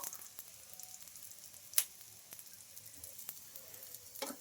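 A moong dal dosa frying in oil on a pan gives a quiet, steady sizzle with scattered soft crackles and one sharp pop, and no one speaks.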